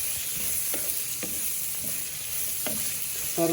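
Ingredients for a coconut chutney sizzle steadily in a pan while a spoon stirs and scrapes them at intervals. The frying hiss is continuous and close, with a few distinct scraping strokes and no voices.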